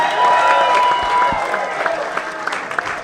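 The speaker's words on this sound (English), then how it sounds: "I can see a really good clap for that. Diana Toledo, give it up for Diana." An election watch party crowd applauds for Diana Toledo, loud clapping that gradually thins out, with a few voices audible through it.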